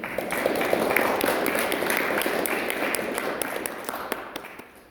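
Audience at an academic seminar applauding to welcome a speaker, sustained clapping from a room of people at moderate level with distinct sharp individual claps standing out, fading toward the end.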